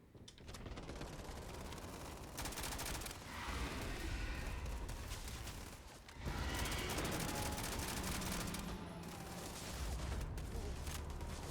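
Rapid automatic gunfire rattles almost continuously in the video game Starfield during a Terrormorph attack on New Atlantis, dense bursts broken by a short pause mid-way.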